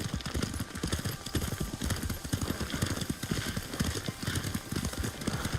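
Horse hooves pound in a steady, quick galloping rhythm during riding in a video game, loud and continuous with no talking.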